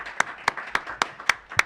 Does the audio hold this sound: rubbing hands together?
no